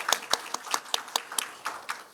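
Sparse clapping from a small audience welcoming two visiting professors from Japan at a forum on low birth rate and population aging, about a dozen separate claps, fairly close and moderately quiet.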